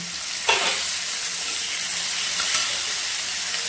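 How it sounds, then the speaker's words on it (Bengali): Chopped onions and tomatoes with cumin fry in a hot pan, a steady, close sizzle that goes on without a break, with a brief stir or clatter near the start. "আমার পেঁয়াজ আর টমেটোটা প্রায় ভাজা ভাজা হয়ে এসছে"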